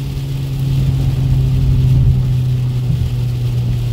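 A VW Polo GTS fitted with a K&N air filter accelerates on a wet road, its engine giving a steady, loud, close drone with a strong low hum that holds evenly through the whole stretch, with no voices over it.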